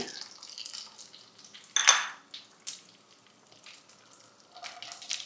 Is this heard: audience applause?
no